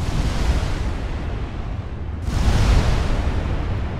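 A torpedo strikes a warship in the Ultimate Admiral Dreadnoughts naval game, giving a broad, rumbling blast that swells after a brief dip and rolls on like heavy surf. No voices are heard.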